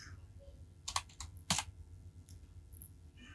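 A password being typed on a computer keyboard: a short burst of a few quiet, close key clicks in quick succession, with faint background hum.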